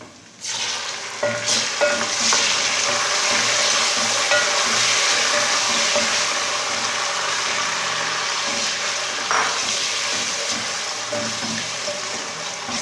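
Tomatoes sizzle steadily in a hot pan of masala, with occasional scraping as they are stirred, close and constant throughout.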